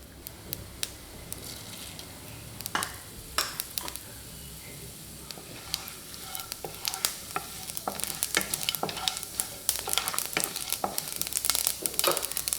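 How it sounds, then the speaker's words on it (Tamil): Mustard seeds, urad dal and cumin fry in hot oil, giving a faint steady sizzle with sharp pops and crackles that grow thicker and more frequent toward the end. "எண்ணெய் சூடானதும் கடுகு, கொஞ்சமாக உளுத்தம்பருப்பு, கொஞ்சமாக ஜீரகம் சேர்த்து நல்லா பொரிய வச்சுக்கலாம்."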